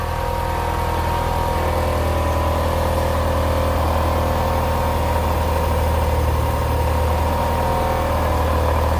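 A Honda B20 VTEC engine idles steadily on its first start after a new head gasket, with a loud, even drone, a low hum and rattly overtones throughout, and no voices.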